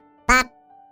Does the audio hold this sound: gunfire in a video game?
no